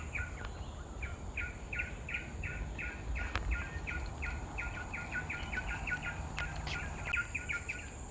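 Repeated bird calls chirp in a steady run of short notes across a nature park in Singapore, moderately distant over constant insect-like buzzing and low background noise.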